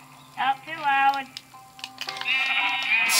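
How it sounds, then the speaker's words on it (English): Sheep in the Minecraft video game bleat in a few short, wavering game cries, loud and close, with a speaking voice also present. "Sheep, I need your wool."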